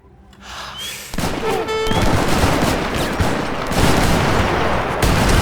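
Cannons in the video game Age of Empires 3 fire in a dense, continuous volley of booming blasts layered with crackling gunfire, loud and sustained after a brief quieter opening.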